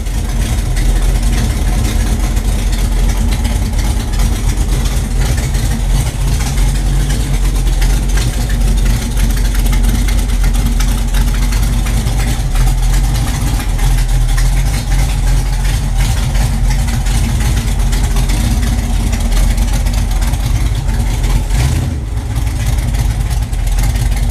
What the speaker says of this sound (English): Doesn't take that long of keeping your foot on the gas where it'll idle by itself.